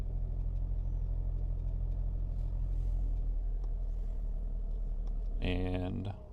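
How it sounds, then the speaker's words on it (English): A car engine idles steadily in a garage, then briefly revs as the gas pedal is pressed near the end, loud and close, with a voice talking over the idle. "Let me hit the gas a little bit."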